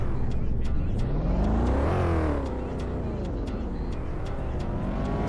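Camaro engine in a Roblox game revs up and down with a whining pitch rise and fall, steady and loud, while a player talks over it.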